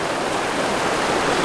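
A river waterfall in the wilderness gives a constant, dense rushing roar of falling water, even and unbroken throughout.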